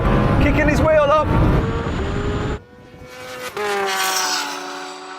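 A twin-turbo Lamborghini Huracan drag racing a Kawasaki H2R motorcycle: loud engine roar rising through gears, a sudden drop, then a second strained whine climbing again, heard with wind rush and people talking.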